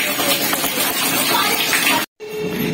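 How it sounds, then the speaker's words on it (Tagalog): Water pouring into a washing machine at home, a loud steady rushing gush that cuts off abruptly near the end before a quieter trickle resumes. "lalagyan ko muna ng tubig yung washing"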